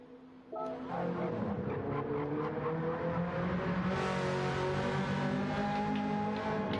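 Race car engines in Gran Turismo 7 rev and climb through the gears, a loud, close, buzzing whine that rises steadily in pitch, with several engines overlapping and no talk.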